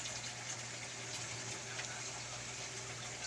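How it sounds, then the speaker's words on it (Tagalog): Water running from a household tap, a steady faint hiss and gush that holds evenly for the whole stretch with no voices. "Patay mo na yung tubig."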